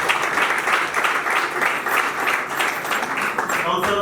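Sustained crowd applause at a civil wedding for the first witness, even and continuous throughout, with faint voices mixed into the clapping.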